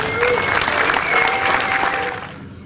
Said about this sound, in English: I think on that note, we can just give Cecil another round of applause.